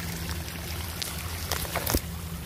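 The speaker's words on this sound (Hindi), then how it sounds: "यहाँ पे ना ऊपर से पानी आ रहे ना" Water from above flows down into a canal in Hunza, a steady rushing trickle close by. A few splashy surges break through near the end.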